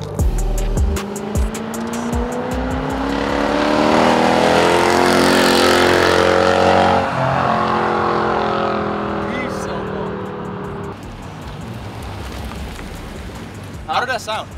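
A straight-piped Lexus LS430 V8 exhaust revs loudly up through high RPM and then falls away as the throttle is released, with rain-like hiss and people talking nearby.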